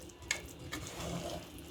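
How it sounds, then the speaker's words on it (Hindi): Water pours into a strainer of homemade lal sharbat, a soft splashy trickle with a couple of sharper splashes, close and fairly quiet, without speech. "अब मैं इसमें तकरीबन 1/2 कप पानी मज़ीद शामिल करूंगी और इसको दोबारा से अच्छे से छान लूँगी"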